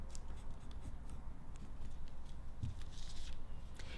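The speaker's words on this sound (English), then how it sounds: "pencil the edge of that right on there." Pencil tracing the edge of a pattern piece onto felt for a finger puppet, a soft steady scratching close by with faint handling noises, no voices.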